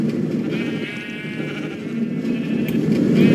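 Sheep bleating in Minecraft, a wavering nasal baa heard amid a dense, noisy background of overlapping game sounds, steady and fairly loud with no speech.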